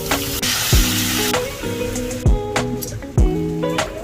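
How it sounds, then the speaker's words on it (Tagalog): Garlic and onion hiss and crackle loudly in hot oil, with a steady sizzle and repeated scraping stirs and clanks against the pan. "So, naglagay na ako ng mantika dyan. So itong garlic and onion natin."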